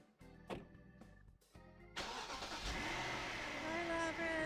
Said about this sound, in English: As the car takes off, Lapras sticks her head out the window